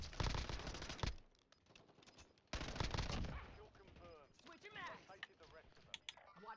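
Rapid bursts of video game gunfire crackle in heavy volleys, then sparser shots sound amid shooter-game action while a voice talks over it.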